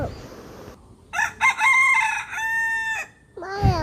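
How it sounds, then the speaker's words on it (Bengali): A rooster crows close by a village pond, giving a long, loud cock-a-doodle-doo with a brief clucking sound at the end. "পুকুর পাড়ে আসার পরে দেখছিলাম এই মোরগটা ডাকছিল"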